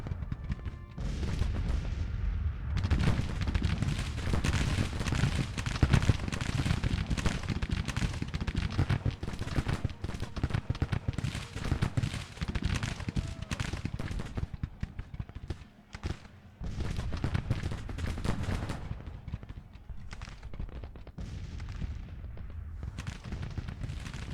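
Artillery fire in a Civil War 1863 Tennessee campaign strategy game: a dense, continuous barrage of booming cannon shots and crackling gunfire, loud and unbroken, easing slightly for a moment before resuming.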